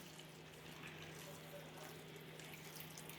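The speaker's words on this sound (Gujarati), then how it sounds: "તો આ ફ્લાવરને ધોવા માટે આપણે તેના પર આપણે ગરમ પાણી નાખી દઈશું" Hot water poured over cauliflower in a kitchen to wash it, a steady running, splashing water sound that stays even and continuous throughout at a moderate, close level.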